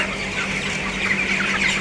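A flock of chickens on a poultry farm clucks continuously up close, many overlapping calls forming a busy, steady chatter.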